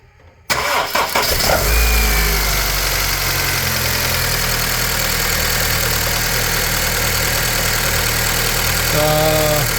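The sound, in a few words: Honda Civic 1.8 VTEC engine starting and idling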